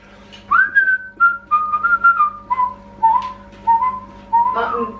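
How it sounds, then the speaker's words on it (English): A person whistles a slow, wavering melody of held notes, close and clear, with a low hum underneath. "Whistle to yourselves, folks."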